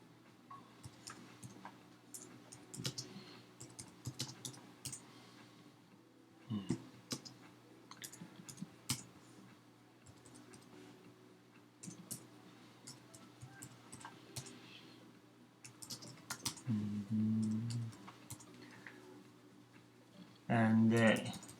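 Fingers click away on a computer keyboard while configuring a Cisco 800 series router, producing faint, irregular key taps in scattered bursts under a low steady hum, with occasional louder thuds.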